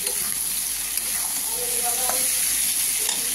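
Pumpkin slices frying in hilsa fish oil with green chillies, a loud, steady close-up sizzle that continues without a break, with a faint voice underneath.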